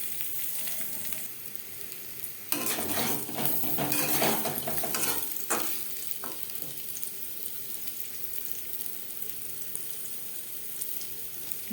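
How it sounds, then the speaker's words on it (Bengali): Boiled potatoes with salt and turmeric frying in a pan, a constant close sizzle with a louder burst of spatula scraping and stirring clatter partway through, then settling back to steady frying. "লবণ হলুদ দিয়ে আলু হালকা করে ভেজে নেব।"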